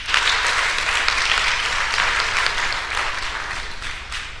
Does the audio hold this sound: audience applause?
yes